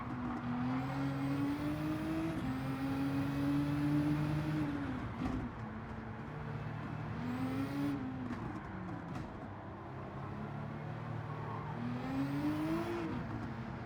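LMP2 prototype race car engines in Gran Turismo 7 at Bathurst, a steady high whine rising through the gears with short drops at each shift, droning continuously at moderate level.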